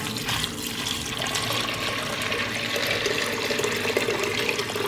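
Water poured into a pot of dry kidney beans for an old-fashioned pressure cooker, a steady close splashing and gushing that runs the whole time with no talking.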